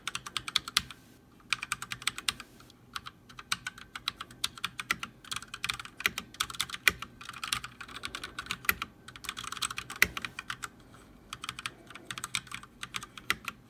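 Ducky One mechanical keyboard being typed on nearby, rapid irregular bursts of crisp clacking keystrokes with brief pauses, continuing steadily throughout.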